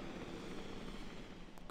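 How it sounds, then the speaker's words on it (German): Helicopter arriving over a park in Jurassic World Evolution, a steady broadband rotor-and-engine rumble holding at moderate distance with a faint high click near the end. "Da kommt ein Hubschrauber."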